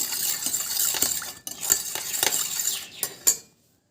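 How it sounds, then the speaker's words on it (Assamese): A spoon stirs a homemade shampoo mixture in a small bowl, making quick, close rhythmic scraping and clinking strokes that continue for about three seconds and then stop abruptly. "মই এতিয়া এইখিনি ধুনীয়াকৈ মিক্স কৰি ল'ম"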